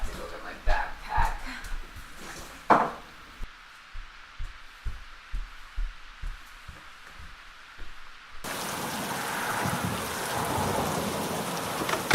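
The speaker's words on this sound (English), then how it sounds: "Yep, bloody raining." Heavy rain pouring down, a dense steady hiss that swells loud toward the end after sparse thuds and quieter stretches.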